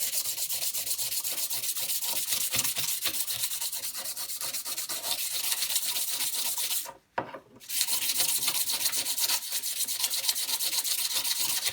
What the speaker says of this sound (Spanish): Lijarlo bien, sin problema, porque no lo vais a estropear.